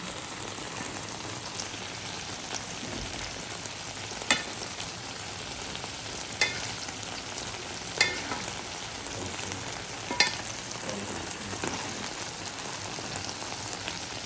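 Sliced onions frying in hot oil over salmon in a pan, a dense continuous crackling sizzle with scattered sharp spits and pops, close and fairly loud, no talking.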